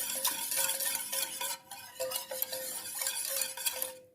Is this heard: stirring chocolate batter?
yes